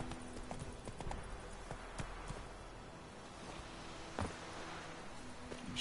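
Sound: horse Roach galloping in video game Witcher 3

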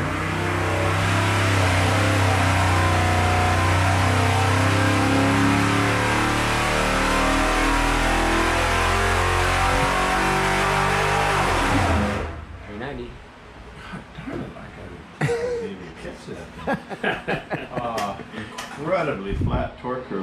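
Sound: 1974 Oldsmobile 350 engine revving on a dyno

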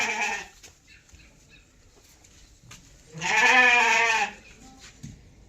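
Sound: sheep bleating

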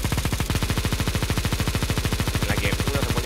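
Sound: Negev machine gun firing in the video game CS2

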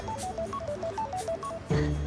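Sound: telephone ringing

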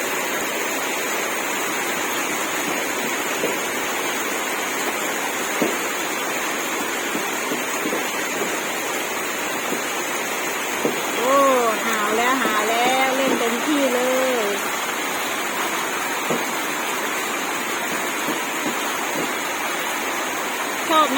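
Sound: heavy rain

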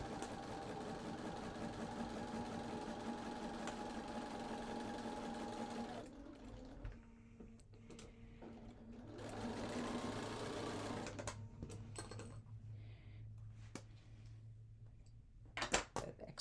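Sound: sewing machine stitching fabric

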